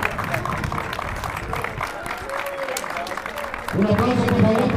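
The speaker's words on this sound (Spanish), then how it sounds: "Un aplauso, por favor, para Leo." An awards ceremony crowd applauds a legendary racquetball frontón player as he is called up, steady clapping that swells louder near the end, with a voice speaking over it.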